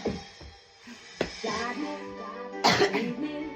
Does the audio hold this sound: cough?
yes